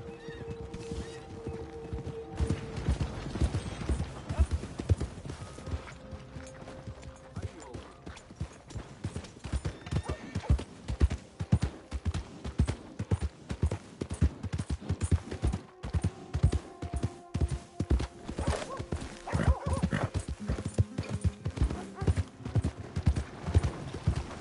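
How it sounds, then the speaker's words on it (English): Horse hooves clip-clop steadily and close in Red Dead Online, the rhythmic hoofbeats continuing throughout with an occasional neigh and faint game background sounds. "Just look at that horse."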